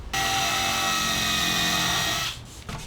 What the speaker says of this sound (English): First step is to drill the pilot hole